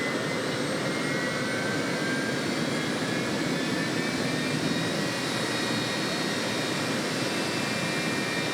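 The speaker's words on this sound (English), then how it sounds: "we're going to wrap up on-track activities today with the jet truck" A jet-engine truck at a drag racing event drones continuously at a distance, a steady roar with a broad whooshing rumble and a faint high whine, no voices.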